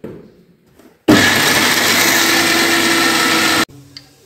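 A mixer grinder grinds a masala paste of thick curd and mint for a Kerala-style chicken curry, starting abruptly at full power and running in a loud steady whir for about two and a half seconds before cutting off.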